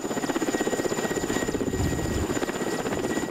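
Helicopter hovering over a forest during a firefighter rappelling exercise in Novosibirsk region, a loud close rhythmic rotor chop with a whining turbine tone throughout, cutting off abruptly at the end.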